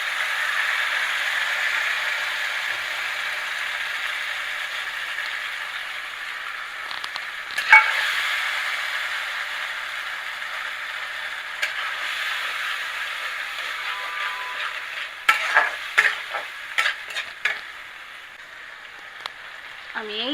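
Ground onion paste frying in hot oil for a chicken curry, a steady moderate sizzle running throughout, then several scraping, clattering stirs toward the end, with no speech.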